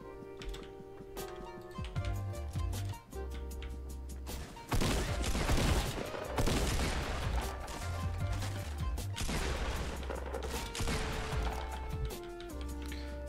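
Gunfire in the Fortnite video game aimed at the player, a dense burst of rapid shots in the middle of the clip over steady game music.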